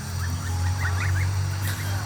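Several short, high honking peeps from one-month-old Tufted Toulouse goslings over a steady low hum, repeating irregularly at close range.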